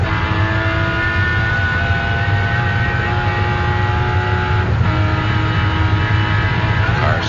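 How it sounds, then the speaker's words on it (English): A 1985 TWR Jaguar XJ-S V12 race car on a qualifying lap at Mount Panorama, Bathurst, droning loudly at steady high revs from onboard, with a brief dip and change in engine note midway as it crosses bumps. "You can hear the overrun of the engine when it just hits some of the bumps"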